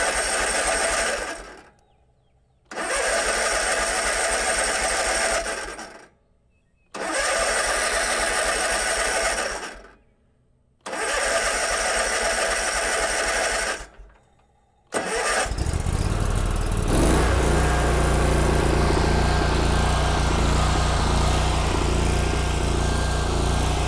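A Kubota Z122R mower engine fitted with a new carburetor cranks in several short bursts, separated by pauses, before it catches and keeps running steadily and loudly at close range.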